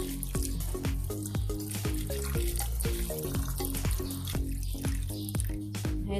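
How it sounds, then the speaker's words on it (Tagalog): A glass of water goes into a pot of paksiw tilapia with vinegar, onion and pepper, making a quick run of close, bright splashes and drips that keep going throughout. "Tapos, lalagyan din natin ng isang basong tubig."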